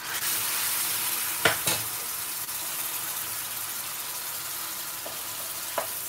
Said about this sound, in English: I'm going to start adding the base gravy.